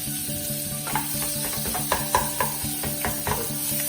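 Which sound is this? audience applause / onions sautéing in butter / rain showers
onions sautéing in butter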